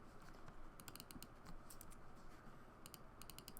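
Quick bursts of keystrokes on a computer keyboard, clustered in short clicky runs with pauses between, heard fairly close against a low steady room hiss and no talking.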